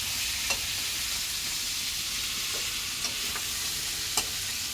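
Food frying and being stirred in a pan on a gas stove, with a steady crackling sizzle and occasional sharp scrapes and taps of the spatula. The sound is fairly faint and continuous, with no speech.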